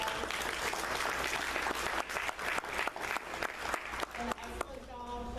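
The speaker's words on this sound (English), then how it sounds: "I just want everyone to give her a round of applause." Conference audience applauding a facilitator at a sober homes fair housing event, dense steady clapping that tapers toward the end, with a voice speaking over it.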